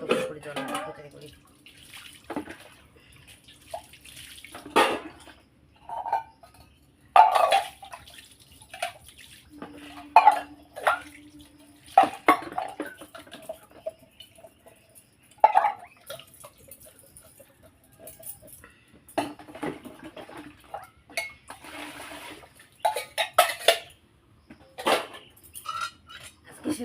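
Water splashing and dripping as a milk can and kitchen utensils are rinsed, with intermittent clinks of metal and pouring in short bursts separated by quiet gaps, a person talking at times.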